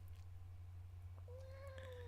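Dusty the cat lets out a few meows, the last one long and drawn out, faint against a steady low hum with no one talking.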